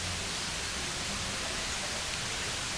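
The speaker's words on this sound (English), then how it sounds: "this rain started to come down here" Steady rain comes down as a continuous, even hiss, loud and close, with no breaks and no voices over it.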